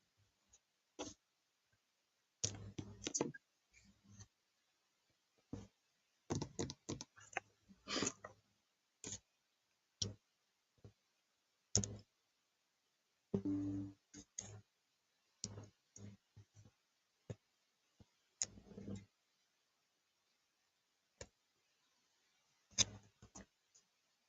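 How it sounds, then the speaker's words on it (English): Scissors snip through paper ephemera during crafting, with scattered short crisp cuts in bursts and pauses in a quiet room. "I prefer to use scissors rather than the craft knife."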